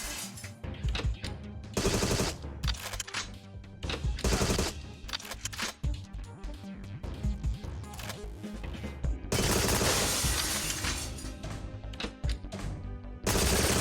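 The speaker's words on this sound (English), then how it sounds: "they're taking a lot of shots at me and they're missing a lot of shots too" Enemy gunfire in Agent 64: Spies Never Die, a GoldenEye-style shooter, rattles in rapid bursts and scattered single shots, loud and near, with a sustained barrage partway through and no talking.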